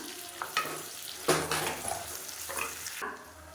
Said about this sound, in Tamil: நறுக்குனதை சேர்த்துக்கலாம் சேர்த்து நல்லா பொன்னிறமாக வர அளவுக்கு வதக்கி விட்டுக்கலாம்